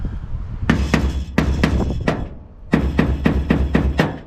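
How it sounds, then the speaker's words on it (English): Repeated metal hammer blows reshaping a body panel on a classic Ford F100 pickup, struck in two quick rhythmic bursts of about five to six sharp ringing hits each, close and loud with a short pause between. "It's still easier to hammer them out than it was."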